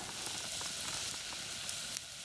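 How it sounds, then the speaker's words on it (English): Close, steady bubbling and hissing of water at a rolling boil in a pot while making an herbal decoction, a continuous seething texture with small pops, no voices. "See that water boiling?"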